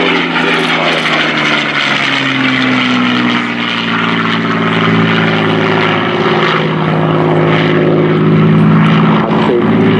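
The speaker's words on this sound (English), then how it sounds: "This is the Lancaster coming through for the low pass." An Avro Lancaster bomber of the Battle of Britain Memorial Flight makes a low pass at RIAT 2018, its four piston engines and propellers roaring loudly and continuously with shifting droning tones.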